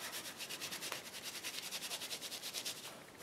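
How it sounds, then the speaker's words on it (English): Rubber stamp scrubbed back and forth on a stamp scrubber pad, a soft rhythmic rubbing with steady repeated strokes, close and fairly quiet, no talking. "Bring in my stamp and scrub."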